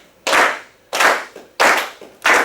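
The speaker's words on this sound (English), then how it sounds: "just really just a nice slow clap like this" Slow, deliberate clapping from an audience at a business event, four loud, evenly spaced claps about two-thirds of a second apart, each sharp and close with a short decay.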